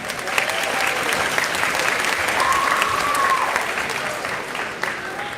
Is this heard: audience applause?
yes